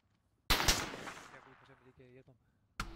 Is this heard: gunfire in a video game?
yes